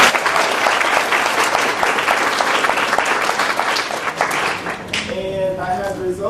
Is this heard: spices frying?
no